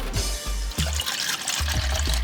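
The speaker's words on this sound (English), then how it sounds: "we are first going to measure out 1 liter of water." Water poured out to measure a liter for a bubble-gum cocktail, a close trickling pour with splashes and low gurgling thumps, steady over about two seconds.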